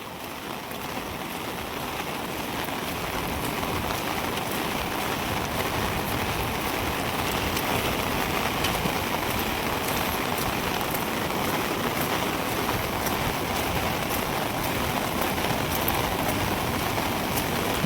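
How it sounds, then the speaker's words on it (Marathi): Floodwater from the Girna river surges over a bridge in a loud, unbroken rushing roar that holds steady from start to finish, close by and with no voices. "बघा किती पाऊस वरसलेला आहे तर पूर्ण असं या पुलावरून पाणी जाऊ राहिलंय"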